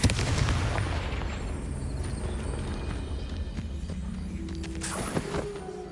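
A Confringo fire spell exploding in the Hogwarts Legacy video game, a loud boom at the start that trails into a long rumbling roar, with a second sharp burst near the end.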